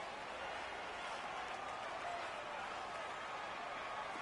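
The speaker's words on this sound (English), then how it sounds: "The crowd getting into it as we come up on a big 3rd down." A large football stadium crowd at a UFL game roars steadily ahead of a big third-down play, a dense, continuous wash of cheering that holds at an even level throughout with no distinct voices standing out.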